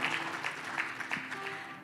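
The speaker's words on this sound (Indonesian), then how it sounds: "Tepuk tangan dong" Applause from an audience at a talk, a short burst of scattered clapping at moderate level with a faint background of room noise.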